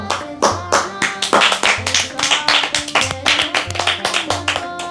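Children clap for a girl during a game played at home: a quick, uneven burst of hand claps close by, with faint talk underneath.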